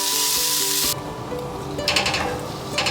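Butter and garlic sizzle loudly in a hot pan inside a truck camper, a steady bright hiss throughout with a few soft clinks and stirring sounds.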